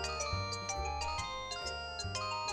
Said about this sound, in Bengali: বল্টুর ফোন, আবার কি হলো কে জানে